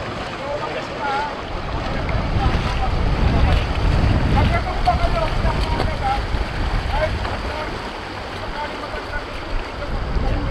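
A strong river current rushes with a steady roar, gusty wind noise buffeting the microphone; no clear talk over the flow.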